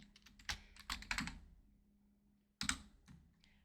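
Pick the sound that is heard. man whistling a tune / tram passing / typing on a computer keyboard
typing on a computer keyboard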